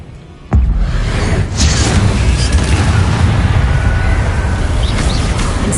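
A spell cast in the Hogwarts Legacy video game bursts in with a sudden sharp onset, then swells into a loud, sustained roaring rumble that fills the rest of the moment without any talk.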